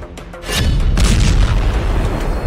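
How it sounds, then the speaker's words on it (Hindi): A heavy explosive boom as two trainee-piloted planes collide midair and crash to the ground in Ukraine, a loud deep blast with a sharp onset that rumbles on without pause. "फिर जबरदस्त धमाके की आवाज के साथ दोनों प्लेन जमीन पर आ गिरते हैं"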